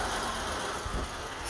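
A fully loaded truck drives along an expressway near Tripoli, Libya, its engine a steady, moderate road drone with tyre and wind noise running unbroken throughout, no voices.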